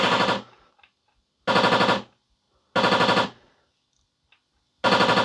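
Gunshots from a light gun video game come as four loud, dense bursts of rapid electronic gunfire, each lasting about half a second and separated by gaps of near silence.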